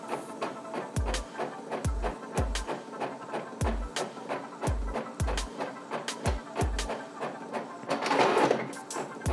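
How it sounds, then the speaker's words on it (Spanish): An Epson L5590 inkjet printer running a two-copy job in draft mode, its carriage and feed mechanism sounding in repeated rhythmic mechanical passes with thumps, ending in a louder whirring burst. "Entonces le damos ahí a aceptar, colocamos 2 copias y le damos en imprimir."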